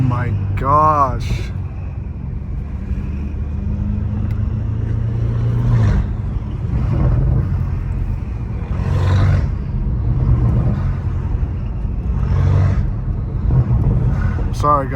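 Loud, steady exhaust drone from a BMW M5 Competition running a catless exhaust, rumbling up close throughout with occasional brief pops and a few short spoken remarks over it.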